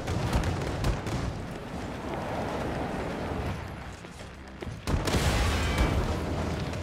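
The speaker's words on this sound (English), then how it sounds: "It's shooting missiles at me?" Missiles exploding in the Wolfenstein II: The New Colossus video game, a sustained rumbling barrage of blasts with a sharp, heavier impact near the end, loud and close.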